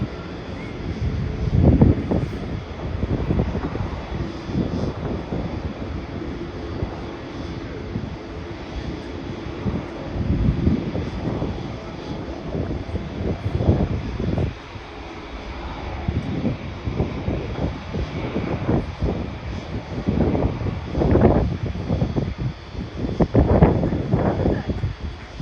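A China Southern Boeing 787 airliner departing, its jet engine roar steady and moderately loud from a distance, with gusts of wind buffeting the microphone and surges of low rumble throughout.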